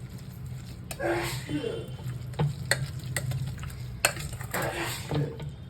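A spoon scrapes and stirs spinach and gram flour in a pan, with soft sizzling and intermittent clinks against the metal, close up.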